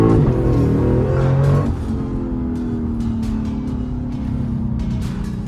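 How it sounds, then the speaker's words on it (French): Naturally aspirated V8 of a Lexus RC F, loud and close as it revs hard, then settles into a sustained droning pull while the car slides, with no voices heard. "on entend le V8"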